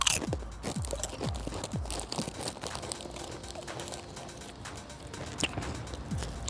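Someone eats cheese and onion crisps close up. Crisp crunches and bites come in quick bursts, then settle into quieter, steady chewing with light crinkling.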